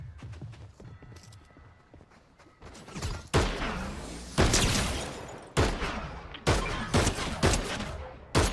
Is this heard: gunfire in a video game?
yes